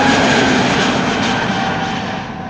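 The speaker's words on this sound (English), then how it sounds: "This is SAS flight 556, an A320neo to Stockholm. Already airborne and climbing" An SAS Airbus A320neo bound for Stockholm climbs after takeoff from Amsterdam Schiphol, a steady broad jet roar with faint tonal whine, loud and gradually receding.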